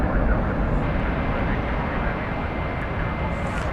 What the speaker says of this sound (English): that's Singapore Airlines cargo coming in from Anchorage